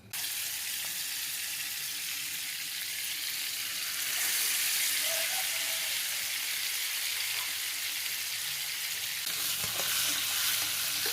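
Masala-marinated fish frying in a pan over a medium flame, giving a loud, steady, close sizzle that carries unbroken through the whole stretch and swells slightly partway through, with no talking.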